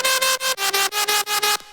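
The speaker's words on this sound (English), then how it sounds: "So the lead by itself would sound like this." A solo synth lead from a melodic jump-up drum and bass drop pulses in short, bright, evenly spaced notes with a bouncing rhythm, loud and upfront with no other parts, ending abruptly.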